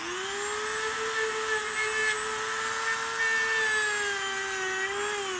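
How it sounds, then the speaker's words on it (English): A Dremel rotary tool fitted with a wire brush whines at a steady high pitch as it scrapes rust off a metal table, a loud, close, continuous motorized drone with a faint gritty hiss underneath. "you could easily grind it off with the wire brush, prep the surface for paint"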